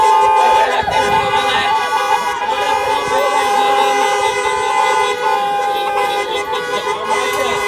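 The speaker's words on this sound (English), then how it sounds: "Honk up for Price" Car horns honking together at a drive-in graduation ceremony, a loud, continuous overlapping blare of several horns close by, with crowd noise and voices mixed in throughout.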